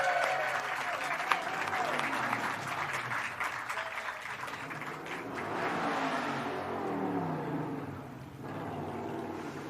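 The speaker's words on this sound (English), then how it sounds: "we're on a real street with real motorcycles that are really loud." Loud motorcycles rev and roar past on a busy Hollywood street, a steady rumbling wash of traffic with rising and falling whines.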